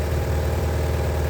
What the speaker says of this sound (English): We'll give them a little bit of a rev.